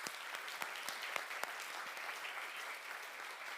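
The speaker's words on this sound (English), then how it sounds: "let me ask for all of them a big round of applause" An audience at a talk on the social impacts of artificial intelligence claps in a steady, dense round of applause that stays even and moderately distant throughout.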